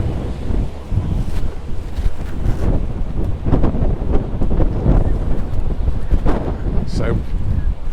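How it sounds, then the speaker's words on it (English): Strong wind on the seafront at Magaluf, Mallorca, buffeting the microphone in loud rumbling gusts, with surf audible underneath, continuous and close for the whole stretch. "Good to get out of the wind"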